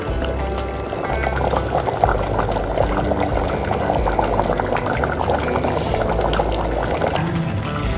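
A pot of Dindigul chicken biryani, rice and chicken cooking in water, bubbles and gurgles loudly and steadily up close, with no lid on the pot.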